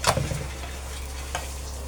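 A brief close hiss of parathas frying crisp in mustard oil, with a sharp crackle at the start and a softer pop near the end.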